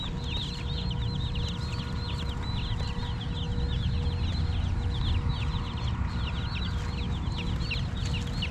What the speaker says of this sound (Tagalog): ito nga pala yung dala naming uh, biniling manok sisiw 45 days 20 piraso yan